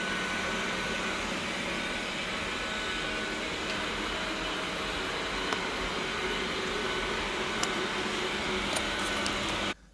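A Narwhal robot mop and vacuum cleaner running with a steady, even whirring drone close by, cutting off abruptly at the very end.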